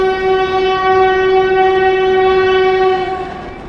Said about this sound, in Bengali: সামনে দেখতে পাচ্ছেন দুর্বার গতিতে ছুটে আসছে 22302 NGP two Howrah Vande Bharat express.